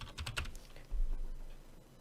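Rapid keystrokes on a computer keyboard, a quick close burst of clicks followed by a softer trailing rattle, with no one talking.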